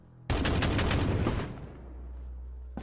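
Gunfire at a creature on a rooftop in a Tagalog horror story about aswang: one sudden loud burst of shots rattles for about a second, then fades into a low lingering rumble.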